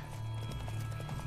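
Horse hooves clip-clop along a road in The Witcher 3, a close, regular trotting beat over a low steady hum, with no one talking.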